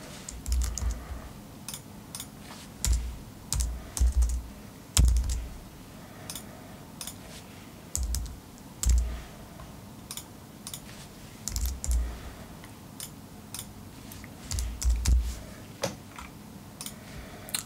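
Bursts of computer keyboard typing come in short clattering runs separated by pauses, close and fairly quiet, with no voices.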